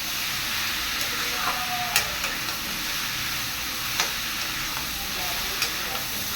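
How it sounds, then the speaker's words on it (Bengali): Beets being mixed into a spice masala in a pan, with a steady frying sizzle and hiss throughout and a few soft scraping stirs and clinks of the spoon at moderate loudness. "এবার ভালো করে মশলাটার সঙ্গে মিশিয়ে নেব।"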